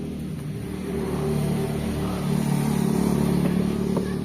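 Tractor engine running steadily with a low, rumbling drone that swells slightly in loudness, heard at moderate distance with no speech over it.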